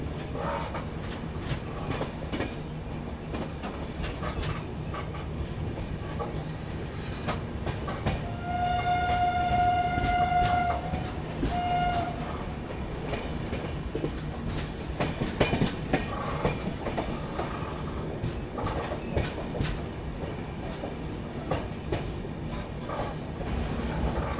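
The 12211 Garib Rath Express rolls along, heard from inside a 3 AC coach: constant rumbling with clickety-clack wheel beats, and a distant horn sounding briefly in the middle.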